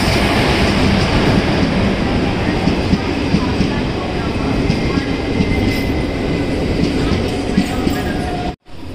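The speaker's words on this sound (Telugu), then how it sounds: "VAP4 లోకోమోటివ్తో జనశతాబ్ది ఎక్స్ప్రెస్ అయితే వస్తుంది." Jan Shatabdi Express hauled by a WAP4 electric locomotive rushing past at close range, a loud continuous roar of wheels and coaches with rail clatter and a brief dropout near the end.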